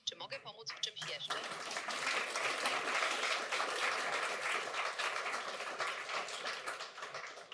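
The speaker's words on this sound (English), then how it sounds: "Well, you deserve that applause" Audience at an App.js developer conference breaking into sustained applause after a brief opening sound, a dense wash of clapping that holds steady, loud and close, then tapers only slightly.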